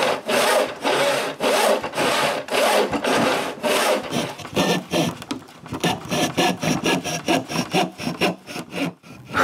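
Hand saw cutting wood for a decorative cut on a lounge chair, dense rasping strokes that settle into a steady back-and-forth rhythm, close and loud with no talking.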